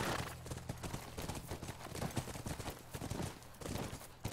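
A horse gallops in the PS4 game The Last of Us, its hooves making a rapid, steady clip-clop that stays fairly quiet throughout.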